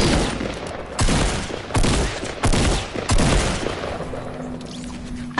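Gunfire in the Fortnite video game, a run of loud sharp bursts about every half second to second over a steady background, easing off near the end.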